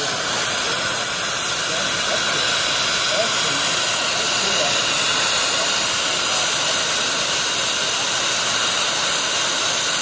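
An oxy-fuel cutting torch gouges out welds on a steel backup bar of a welding test plate, producing a loud, steady roaring hiss with no break and a faint voice beneath.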